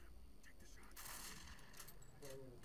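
Video game gunfire while hunting hyenas: a burst of sharp shots with mechanical clatter over steady background noise, no clear speech.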